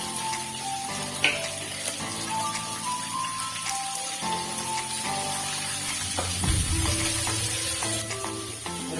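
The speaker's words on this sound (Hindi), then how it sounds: "प्याज को भी स्लाइटली ब्राउन करना है, हल्का सा जो ट्रांसपेरेंट हो जाए," Onions fry in a pan for paneer butter masala, browning lightly. A soft continuous sizzle sits under steady background music, with a brief clatter partway through.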